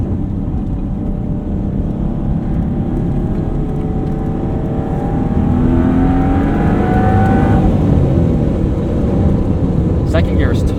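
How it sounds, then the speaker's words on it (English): A 1992 Dodge Stealth RT Twin Turbo accelerates in second gear, its engine note rising steadily and loud from inside the car, with a rushing whir of wind and road noise throughout. "try second gear here."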